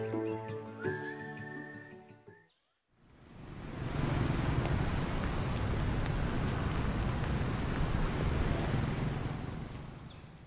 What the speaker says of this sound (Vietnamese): hôm nay trời mưa to